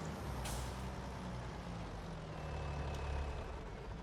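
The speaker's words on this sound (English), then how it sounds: "Air brakes. Gotta love them." Tractor air brakes in a farming video game release a sharp hiss at the start over a constant loud rumbling engine drone, with a second faint hiss later on.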